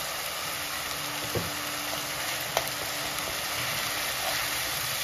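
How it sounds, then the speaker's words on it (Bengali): Chilli and turmeric powder sautéing in oil for a Bengali doi rui fish curry, a steady crackling sizzle with a few faint clinks of a spoon against the pan, no talking. "তো এটাকে আমি এখন ভালোভাবে কষিয়ে নিচ্ছি"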